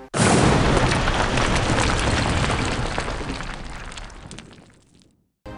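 A big explosion sound effect: a sudden loud boom that rumbles and slowly fades over several seconds before cutting off, heard alone without narration.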